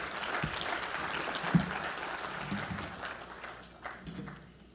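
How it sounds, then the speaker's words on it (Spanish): A crowd applauds steadily for several seconds, a dense wash of clapping with a few louder individual claps, fading slightly toward the end. "recibamos con un fuerte aplauso"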